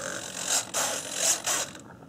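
An Allen wrench turns a small set screw on a servo arm during a model aircraft build, giving close, scratchy ratcheting in two or three short strokes.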